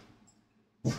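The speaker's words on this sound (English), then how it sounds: "My dog would have to bark at something right there in the middle of this" A dog gives a single loud bark near the end after a quiet stretch, close and sudden.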